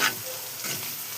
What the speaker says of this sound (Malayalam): കറിവേപ്പില, പച്ചമുളക് എല്ലാം കൂടെ ഒന്ന് വഴറ്റിയെടുക്കണം.